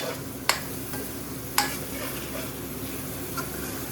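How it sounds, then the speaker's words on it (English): A BIR style curry sizzles steadily in a pan while a utensil stirs it, with a couple of sharp scraping knocks against the metal over the constant frying hiss. "I'm going to give it a little stir because, yeah, look, you see, it's caramelising to the surface already."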